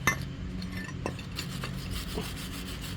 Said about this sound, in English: Take the wire brush, clean the whole system, brackets and everything.